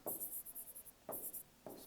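A pen scratches across paper in quick, soft strokes, a series of short bursts with brief pauses between, close and faint with no talking.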